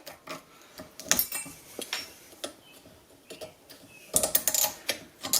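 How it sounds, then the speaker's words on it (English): A screwdriver pries old clips off front disc brake pads on a 2011 Chrysler Town and Country, producing close, sharp metallic ticks and clicks at an irregular pace, with a denser scraping cluster near the end and no talking. "using a screwdriver or something, pry these old clips out"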